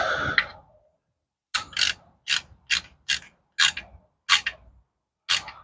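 A hand ratchet snugs up a bolt on a Jeep Grand Cherokee, a quick burst of clicking followed by seven or eight separate sharp ratcheting strokes with short pauses between, close and clear with no talking.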